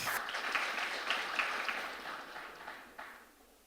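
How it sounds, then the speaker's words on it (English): Applause from an audience at an international dinner event, a dense patter of clapping that is moderately loud at first and gradually fades, with no talk over it. "Please give her another round of applause"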